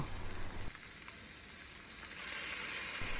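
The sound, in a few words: stir-frying eggplant with seasoning sauce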